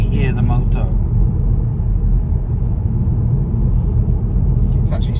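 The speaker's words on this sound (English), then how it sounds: "I wish you didn't have so much tyre noise and I could just hear the motor." An MG4 Long Range Trophy electric car gives a steady low motor hum under dense tyre roar on the road, heard continuously from inside the cabin.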